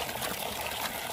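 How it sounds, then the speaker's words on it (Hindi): Muddy water gushes steadily from a newly installed hand pump after borehole drilling, a dense continuous splashing rush, close and even throughout with no pauses. "अभी पानी आ रहा है मट्टी वाला"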